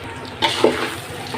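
A spoon stirs turmeric and chili powder into bhuna khichuri in a pot, giving a brief scrape and soft sizzle over about a second, alone and close.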